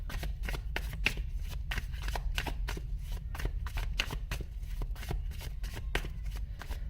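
Tarot cards being shuffled by hand, a steady run of crisp riffling bursts close up, repeating quickly and evenly with no talk over them.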